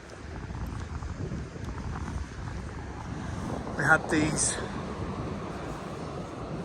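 Steady rushing gusts of strong wind roar across the microphone on a beach throughout, with a brief voice breaking through near the middle.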